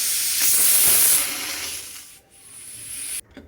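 A pressure cooker cooking lentils for sambar vents a loud, close hissing whistle of steam that fades, returns briefly and then cuts off, with no talking.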